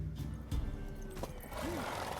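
A horse whinnies in The Witcher 3: Wild Hunt during a horse race event, a single rising-and-falling neigh near the end, over steady game ambience, hoof clatter and faint background sound.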